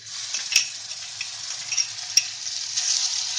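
Steady, close sizzle of cumin and garlic-ginger paste frying in hot oil for dhaba-style rajma, with a couple of sharp pops and light stirring clatter, no voices.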